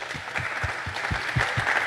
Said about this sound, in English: So give a big applause for Matthew and his talk.